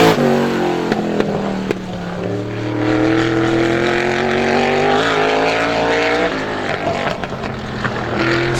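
A supermodified race car on a time trial lap at Star Speedway, its loud engine howling with rising and falling pitch as it passes through the turns, close and continuous.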